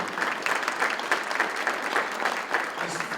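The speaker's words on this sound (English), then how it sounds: "that's worthy of applause as well" Banquet audience at a Black Chamber of Commerce dinner applauding, a fairly soft, steady wash of many hands clapping without pause.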